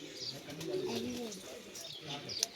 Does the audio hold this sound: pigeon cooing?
yes